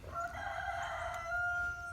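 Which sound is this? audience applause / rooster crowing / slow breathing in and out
rooster crowing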